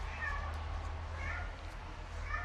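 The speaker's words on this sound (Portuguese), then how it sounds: "Vocês estão ouvindo, miado?" A cat meowing somewhere in a room during a live online lesson, three soft, fairly distant meows spaced across a couple of seconds over a steady low hum.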